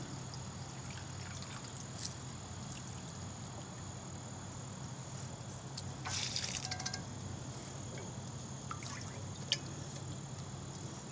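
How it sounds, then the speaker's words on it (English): Water poured and trickling while a camping pot is rinsed outdoors beside a Bushbox XL stove, a soft steady dribble with a louder splashing burst near the middle and no voices. "I'm gonna go ahead and rinse out this pot"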